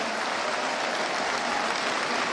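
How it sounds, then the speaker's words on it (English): Large hall of more than 8,000 delegates at an annual accountants' conference applauding; dense, loud, sustained clapping filling the whole moment. "Give this great body a resounding applause."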